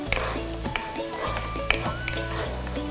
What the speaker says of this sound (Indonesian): Selanjutnya, kita mau tumis bawang bombay dan bawang putih.